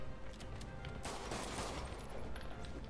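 Gunfire in the Spider-Man video game: a faint, steady fusillade of rapid shots that swells briefly in the middle, with no talk over it.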